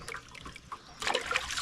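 Running water poured over a fresh raw papaya from the tree, outdoors in a Kenyan village; a soft trickle swells into a louder, steady splashing stream.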